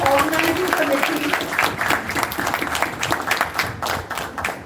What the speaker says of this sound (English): I will allow a round of applause for the organizing committee.